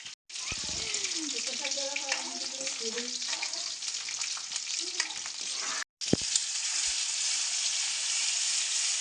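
Garlic-ginger paste fries in a kadhai with a bright, continuous sizzle, broken by brief stirring knocks and a short cut; soft voices are heard faintly beneath the frying.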